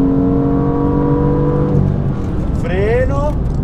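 BMW M2 on the Mugello circuit powering out of a corner, engine note rising then dropping as gears change, loud and close, with someone talking over it throughout.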